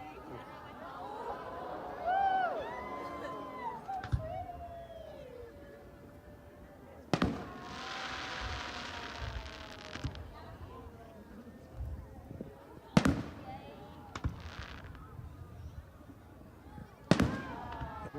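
Fireworks over the Berkeley Marina, several sharp booms spaced a few seconds apart with crackling bursts after them, heard at a distance while people talk nearby and whistling streaks rise between blasts.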